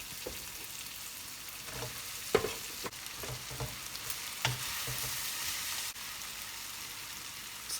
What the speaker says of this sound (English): Next, add the cooked rice and gently mix it all together.